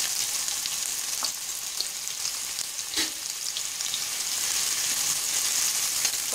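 Chopped onions sizzle steadily in a pan with cumin seeds already fried golden brown, a continuous close hiss with faint scraping as they are stirred.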